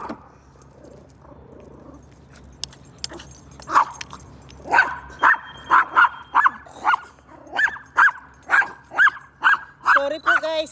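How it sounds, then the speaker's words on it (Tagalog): A pet dog barks repeatedly outdoors on a morning exercise walk, sharp close barks in a rapid steady series that grows louder, with a person talking briefly beforehand. "sorry na maingay po yung ating aso"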